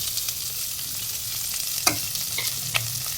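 Mustard seeds, onion, green chili and curry leaves fry in cold-pressed gingelly oil in a kadai, giving a steady close hiss of sizzling broken by a couple of sharp spoon clinks as they are stirred.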